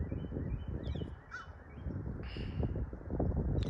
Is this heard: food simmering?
no